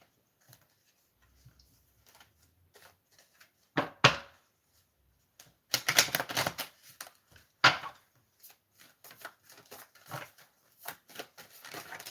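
Tarot cards are shuffled and pulled from the deck in a quiet room, a few sharp snaps and slides, then a dense burst of riffling, followed by scattered soft taps and flicks.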